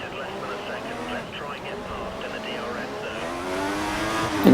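F1 race car engines in a racing video game at the Suzuka circuit, several high whining engines rising and falling in pitch as cars run close together, steady and moderately loud beneath a voice talking over them.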